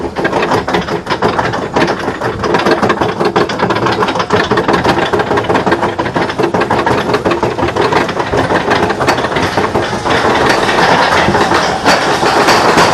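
The Gold Rusher mine-train roller coaster at Six Flags Magic Mountain, ridden from the middle row, makes a dense, loud rattle of wheels clattering on track. Rushing wind and rhythmic clacking continue without a break.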